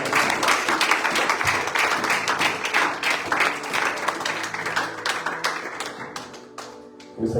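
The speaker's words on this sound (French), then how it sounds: "Nous t'honorons encore par nos acclamations." Congregation at a church Bible seminar applauding, with dense sustained clapping, scattered cheers and acclamations under a faint background tone, fairly loud throughout and thinning slightly near the end.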